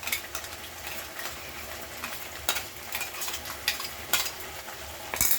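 Spice paste and browned onions frying in a wok, a steady close sizzle with irregular scraping and stirring clacks throughout, no voices.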